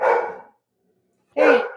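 Two loud, close dog barks, each about half a second long, separated by a gap of silence.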